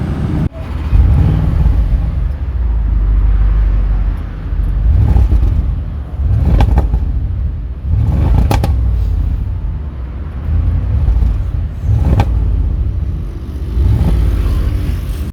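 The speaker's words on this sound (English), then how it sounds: "let's head to the rear side to hear that engine note" An Audi C7 RS7 V8 engine heard from behind the car, with a loud, deep rumble that swells and eases in repeated rev pulses over about fifteen seconds, broken by a few sharp crackles.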